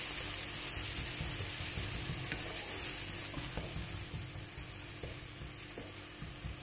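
Chana dal sizzles steadily in a few spoons of sesame oil while being stirred, a continuous frying hiss with occasional scraping clinks, fairly close and without talk.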